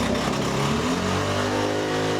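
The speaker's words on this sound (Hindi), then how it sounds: "सर ये इंजन है पूरा बुलेट का, 350 सीसी है" A Royal Enfield Bullet 350cc motorcycle engine running steadily, a loud, close, continuous thumping drone that holds an even idle throughout.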